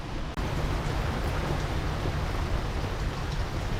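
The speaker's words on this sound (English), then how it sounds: "Rain at dawn." Steady rain patters on a sailboat at dawn, a dense, even hiss that runs throughout after a brief dip at the start.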